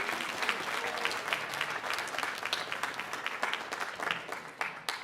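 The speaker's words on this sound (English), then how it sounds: "Students, if we give our parents a big round of applause right now" Sustained audience applause fills a school band concert hall as the crowd claps for the parents, a dense steady patter of many hands throughout with no talk over it.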